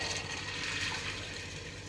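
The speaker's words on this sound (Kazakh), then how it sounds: "Енді осының үстіне су құямыз." Water is poured into a pot over washed corn kernels for a cold corn drink, a faint, steady rushing pour that continues without break and without talk.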